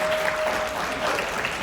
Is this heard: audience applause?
yes